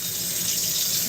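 Hot water runs steadily from a kitchen faucet into a sink while oily containers are rinsed, a close, loud, continuous rushing splash with no talk.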